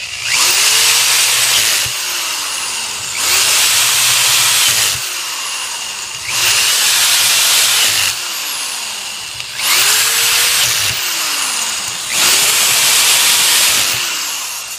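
Power driver fitted with a T20 Torx bit runs screws into a sealed DDP550 Aquatech pump in four loud, even bursts of whirring, each a second or two long, separated by short pauses, close up with no talk.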